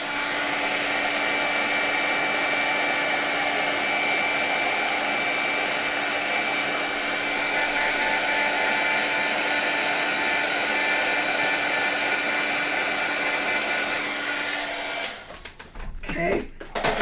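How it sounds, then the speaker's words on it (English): A heat gun set to hot blows with a loud, steady whooshing roar that holds for about fifteen seconds before cutting off, followed by a few faint handling sounds. "So I'm gonna put my gun on hot here."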